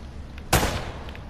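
A single sharp gunshot fired at a window in Uncharted: Drake's Fortune cracks out loud and close against quiet game ambience, then fades quickly.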